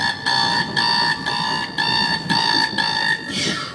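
A beatboxer on a New York subway train vocally imitates an alarm clock, producing loud, rhythmic beeping bursts in short repeated pulses over the rumbling background of the moving train.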